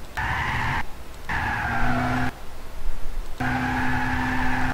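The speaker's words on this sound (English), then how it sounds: "And then starts squealing again because you're on power again." A Toyota Prius in the video game Gran Turismo 6 at Spa-Francorchamps' Pouhon corner, its tires squealing in loud tonal bursts under understeer, broken by short drops where grip returns, over a steady engine drone.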